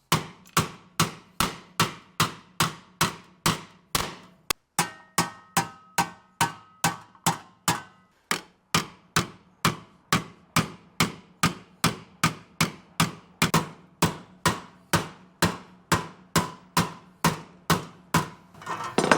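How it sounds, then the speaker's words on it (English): Hammer blows flatten the rusty floor of a dentside Ford truck bed, dozens of sharp metallic strikes landing in a steady, even rhythm, loud and close, with only a brief pause partway through. "I'm going to use the flat side of this hammer"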